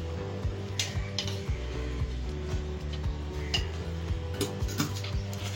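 Sohan halwa mixture being stirred in a pan with ghee over a low flame, giving steady scraping and light metallic ticks of a spoon against the pan, close and repetitive with no talking.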